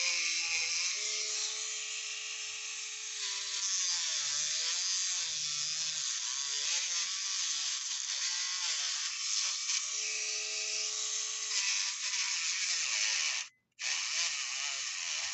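A small rotary tool whines steadily at high pitch while grinding a metal tank valve, its motor note rising and bogging under pressure, then briefly cutting out near the end before spinning up again.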